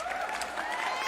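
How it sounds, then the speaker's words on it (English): Applause from a live audience greeting a guest on an afternoon chat show, a steady dense wash of clapping held at even loudness throughout, with a faint voice or cheer mixed in. "Big round of applause for"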